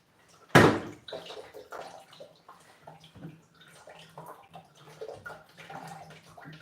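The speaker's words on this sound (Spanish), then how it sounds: "le pueden ir agregando un poquito de agua" Water is poured into a pot of cooking rice, opening with a sharp splash and settling into soft, uneven sloshing and bubbling nearby, with no talk over it.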